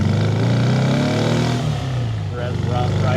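A 1956 Porsche 356A European coupe's engine climbs through the revs while driving, a close, steady, buzzy drone that rises in pitch, dips briefly, and climbs again, with a voice talking over it.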